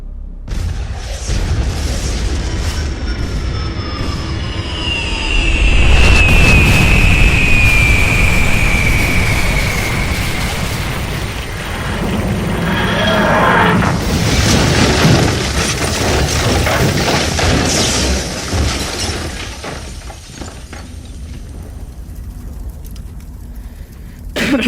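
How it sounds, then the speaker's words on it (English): A spaceship exploding in Minecraft: a deep, loud boom with shattering debris and a long roaring, rumbling tail that swells and fades over many seconds, with no talking. "the ship will explode in 3, 2,"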